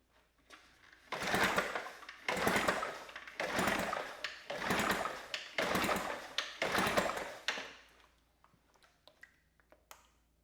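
A 6 hp Johnson outboard engine, repaired for low compression, is cranked for a compression test: six loud rhythmic whooshing bursts close by, then a quiet stretch with a few light clicks.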